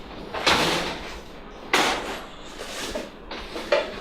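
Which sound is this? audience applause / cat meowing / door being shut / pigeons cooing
door being shut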